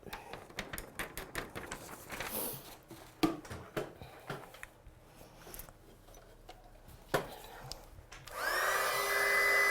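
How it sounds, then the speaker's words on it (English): Scattered taps and handling clicks are followed by a heat gun switching on near the end, blowing with a loud, steady whoosh as it heats cardstock. "I'm just going to get my gun hot and then I get less warp in the cardstock"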